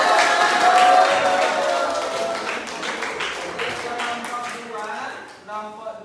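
Students in a classroom quiz applaud a winning group, a scattered patter of hands that starts loud and fades gradually, heard under a voice speaking over it throughout.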